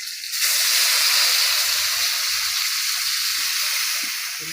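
Tomatoes and chopped chili hitting hot mustard oil in a kadai, giving a loud, steady sizzle and hiss that fades slightly as it settles, with no voices.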